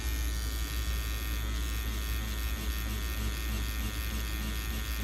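A rotary tattoo machine, the Dark Knight, set to its lowest 2.6 mm stroke, hums with a steady, even electric buzz, close and continuous without pauses.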